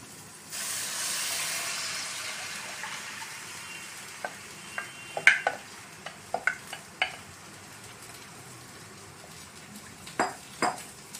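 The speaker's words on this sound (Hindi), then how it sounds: "हम इसे अच्छी तरह चलाते रहेंगे क्योंकि हमने इसमें बेसन डाला है।" Kadhi made with gram flour being stirred in a pan, a soft hiss fading out under a series of close metal spoon knocks and scrapes against the pot.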